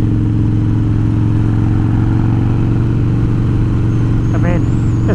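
Harley-Davidson Twin Cam Dyna cruiser fitted with aftermarket cams and a ThunderMax tuner, its engine droning loud and steady close by, building as it pulls away, with wind noise throughout.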